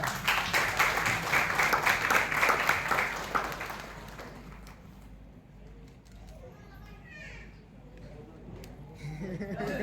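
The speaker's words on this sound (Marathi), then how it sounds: "त्यांच्यासाठी एकदा जोरदार टाळ्या" Loud clapping from an audience at a prize distribution ceremony fills the first four seconds, then fades into quieter room noise with faint chirps, and clapping rises again at the end.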